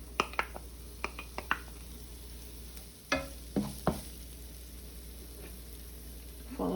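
Bell peppers and onion sauteing in olive oil in a pan, a steady soft sizzle broken by several sharp utensil scrapes and stirring clicks, close and with no talking.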